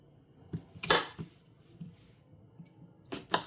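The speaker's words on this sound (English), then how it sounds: "I'm going to chop up veggies here and add that to it as well" A knife chopping vegetables on a kitchen board makes a few sharp, sparse clacks and taps spread across a few seconds, fairly close and quiet, with no talk.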